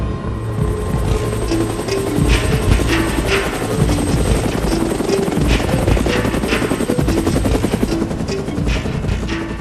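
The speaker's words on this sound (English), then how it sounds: "The Chilean Air Rescue Service dispatches helicopters to rescue the remaining survivors." Air rescue service helicopters flying at a plane crash site, their loud, steady rotor chop and turbine whine filling the air continuously and close by.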